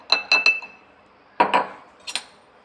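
A spoon stirs amla and pomegranate juice with lemon and honey in a glass, ringing out in bright clinks: three quick taps, a pause, two more, then one last clink.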